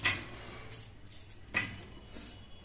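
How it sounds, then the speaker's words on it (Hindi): Coconut is grated by hand in a home kitchen for coconut pitha, giving a few separate scraping, clinking strokes against a metal grater, close and fairly quiet with gaps between them. "और नारियल को हम ऐसे कद्दूकस कर लेंगे।"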